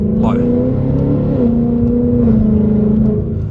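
Tuned E85 Mustang GT with a 10R80 automatic and basic bolt-ons blips its engine to rev-match a paddle downshift: a loud, close, steady exhaust drone whose pitch leaps quickly upward at the start, then holds and dips slightly, with no talk.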